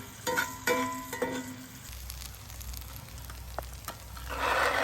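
Butter sizzles in a pan over a campfire, a steady crackling hiss with a few sharper pops early on, growing brighter and louder toward the end.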